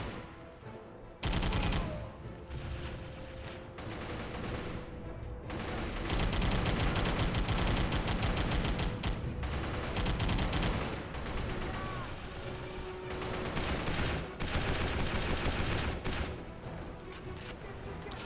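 Loud, relentless gunfire from a shooter video game as lined-up enemies are mowed down, a dense wall of rapid shots and blasts running continuously with no pause.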